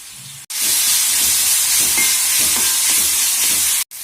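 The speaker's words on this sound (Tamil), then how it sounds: "எண்ணெய் காஞ்சதுக்கப்புறம் தட்டி வச்சுருக்க சுண்டைக்காயை இதில் போட்டு நல்லா வதக்கிக்கோங்க" Crushed turkey berries sautéing in hot sesame oil, a loud steady sizzle and hiss with faint stirring scrapes, cut off abruptly at each end.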